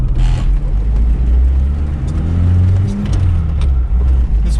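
A vintage Suzuki 4x4 on the move, its engine a loud, steady low drone from inside the cab with slight rises in revs and faint rattles over the bouncy ride.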